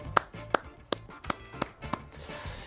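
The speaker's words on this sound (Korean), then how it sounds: "박수 한번 쳐주십시오." Six slow, evenly spaced claps ring out in a studio setting, crisp and fairly close, with quiet room noise between them and a soft rising hiss at the end.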